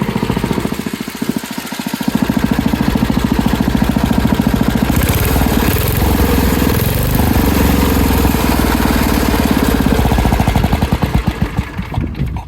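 A Sears 10XL garden tractor engine runs close and loud in a steady rough idle, then revs up as the throttle is opened and holds a higher, busier pitch to the end.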